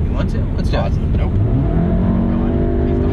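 A stage 2 tuned VW GTI accelerates hard, its engine note rising steadily in pitch as it pulls through the gear, loud and close, with voices talking over the start.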